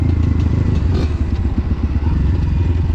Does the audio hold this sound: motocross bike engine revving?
yes